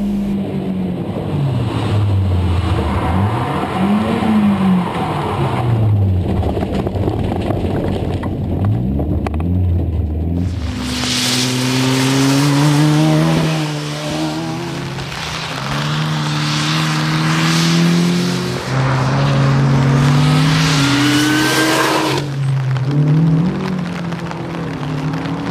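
A Renault 8 engine rises and falls through a corner, revving hard with shifting pitch as the car accelerates out, loud and close for most of the run with no talk.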